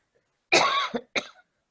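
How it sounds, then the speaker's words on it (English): One person coughs close by: a harsh first cough, then a shorter second one, with silence before and after. "excuse me a minute, I'm going to cough"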